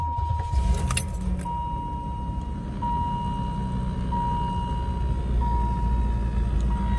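A Pontiac Trans Sport van's engine runs with a steady low rumble and drone, while keys jangle briefly near the start.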